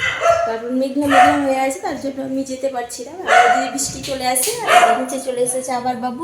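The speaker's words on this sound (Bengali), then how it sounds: "এই যে কুকুর ডাকছে, কত চিৎকার করছে।" A dog barks repeatedly in short bursts during a rooftop outing, loud and fairly close, with someone talking over and between the barks throughout.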